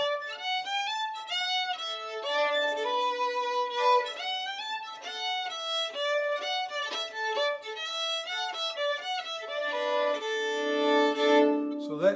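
Fiddle playing the old-time tune Angelina Baker in a bowing workshop, a bright, steady melodic line with crisp bowed notes and a few double stops, played solo and close without talk.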